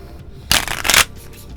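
A deck of cards shuffled for a tarot-style reading, giving a loud crisp riffling burst of about half a second, a brief dip, then a second burst, with quiet room tone before and after.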